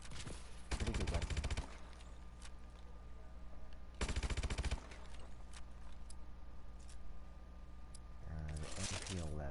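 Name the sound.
MP11 submachine gun firing in a video game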